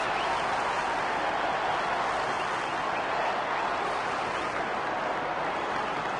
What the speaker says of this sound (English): the crowd full of voice at the moment as we look over the MCG